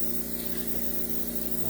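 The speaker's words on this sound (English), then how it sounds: "Put a little more of the thinner on there, again, just in a spray bottle." A spray bottle mists paint thinner onto a painting laid on a board, giving a soft, steady, continuous hiss that stays faint and even throughout.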